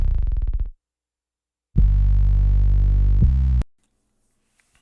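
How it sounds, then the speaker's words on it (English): Bass and kick drum play together in a mix: a brief low bass phrase, then after a pause a sustained, loud, heavy low-end passage where the kick and bass overlap, ending abruptly. "Now let's play the bass and the kick together."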